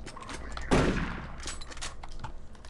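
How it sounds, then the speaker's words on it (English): A single loud, booming shotgun blast in the video game Doom 3, followed by a decaying tail and fainter scattered impacts and clicks as the action continues. "God, eat my shotgun"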